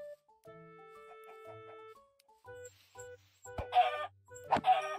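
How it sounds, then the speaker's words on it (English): Chickens in a video game cluck in short bursts against a quiet backdrop, with a steady musical tone early on and sharper, louder squawks near the end, no talking. "Oh, there's chickens too."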